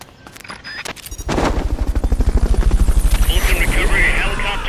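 Helicopter in Metal Gear Solid: Peace Walker, its rotor spinning up into a loud, steady rapid thumping after a few brief clicks and sounds, with higher whine layered on top.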